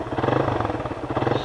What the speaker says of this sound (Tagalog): Yan na yung andar ng motor natin sa ngayon.